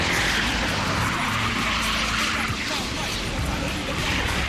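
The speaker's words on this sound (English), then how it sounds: "I did one donut and I think I almost blew a tire." A car spins a donut on a slippery wet course, its tires skidding and screaming as the engine roars loud and steady throughout, with broadband tire hiss filling the whole stretch.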